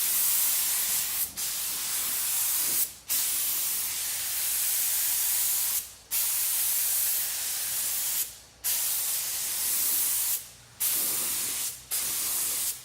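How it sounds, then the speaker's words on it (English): Spray gun laying clear coat onto a plastic car bumper cover, a steady loud hiss running in long passes broken by about seven short pauses between strokes. "next we're going to start spraying our clear coat"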